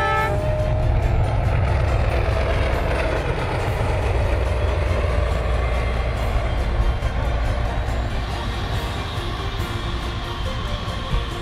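A train passes along a desert railway as a loud, continuous rumble and clatter close by, with a heavy low roar that stays strong throughout and no talk.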